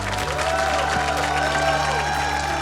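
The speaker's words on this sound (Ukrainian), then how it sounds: "Ну а ці оплески для вас." Applause for a water-painting performer on a Ukrainian talent show rises under sustained musical tones, moderate crowd clapping and some cheering blended with the music throughout.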